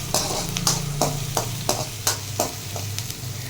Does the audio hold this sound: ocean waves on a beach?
no